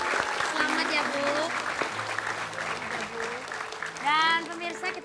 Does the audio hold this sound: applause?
yes